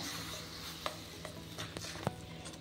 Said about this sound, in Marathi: आता आपला हा रवा आपण गुळाचा पाक रव्यामध्ये टाकून घेतलेला आहे आणि हा आपल्याला मिक्स करून घ्यायचा आहे